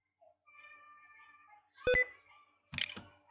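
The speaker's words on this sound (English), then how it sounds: "Now once you've heard that beep sound, you are going to click yes." A short, bright electronic beep from a Windows 10 computer stands out sharply after a faint stretch of steady tones, followed moments later by a brief burst of clatter.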